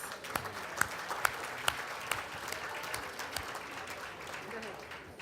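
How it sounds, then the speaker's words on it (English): A modest crowd at a gala applauds steadily, with distinct sharp claps standing out near the start and the clapping sustained throughout at moderate distance. "Give her a round of applause."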